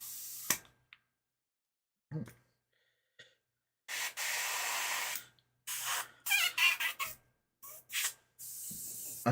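An airbrush sprays onto a miniature in short, close hissing bursts separated by silences, with a few small clicks between them.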